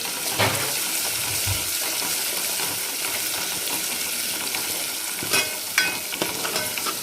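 Crushed garlic and ginger sauté in a pan with a steady close sizzle, broken by a few scraping stirs and light metallic clinks of a spoon.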